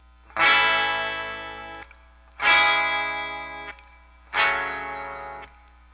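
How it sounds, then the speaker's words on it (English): An electric guitar played through its treble pickup strikes three sustained chords, each ringing out and slowly fading, with a thin, bright, somewhat tinny tone. "Here's what the treble pickup sounds like."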